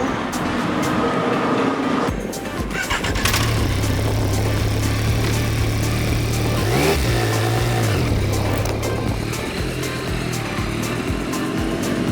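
Yamaha Tracer 9 GT motorcycle on a sunny day out on the road, with a steady loud engine drone and wind rush that swells and rises in pitch through throttle changes over several seconds.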